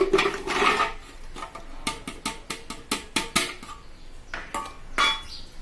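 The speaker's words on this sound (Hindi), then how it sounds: "ये दो कप नारियल की ग्रेवी है, इसको हम मिक्सी के पॉट में डालेंगे" Coconut paste being scooped into a steel mixer grinder jar while making coconut milk, heard as a series of sharp clinks and scrapes of spoon against metal, close and moderately loud, with no talking.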